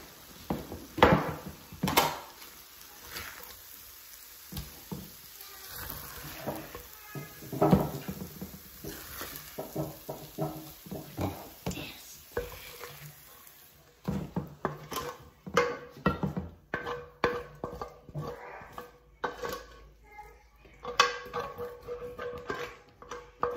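Cooked biko, a Filipino rice dessert, is scooped and scraped into a pan, giving a busy run of close clinks, knocks and scraping that carries on throughout with no voices.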